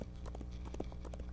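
Horse hooves drum in a quick, uneven clip-clop rhythm within a video game, fairly faint over a steady low background hum, with no talking.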